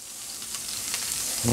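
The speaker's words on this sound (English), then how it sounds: "Put down a little butter. Tablespoon of butter, baby." A tablespoon of butter sizzling on a hot steel griddle, a close, even hiss that holds steady and swells slightly toward the end, with a faint low knock at the close and no voices.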